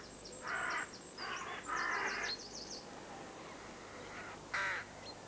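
Carrion crow cawing in a garden setting: a series of hoarse, rasping caws in short bursts, three close together then one more after a pause, fairly distant, with faint chirps from other birds in the background.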